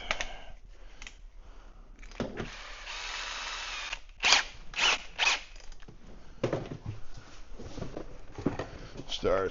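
A handheld power drill whirs in short bursts during assembly of a powder coating oven build, close and moderately loud, with a zipper-like rasp and clinking tool handling between runs.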